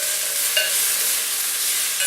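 Ginger and minced garlic sizzle steadily in a hot pan for a quinoa pilaf alongside coriander seeds, a dense continuous hiss close by with a couple of brief bright crackles, no voices.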